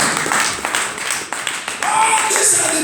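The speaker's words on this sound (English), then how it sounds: "Somebody clapping for God now." A congregation claps at a church service, a loud continuous wash of many hands clapping together with scattered voices mixed in.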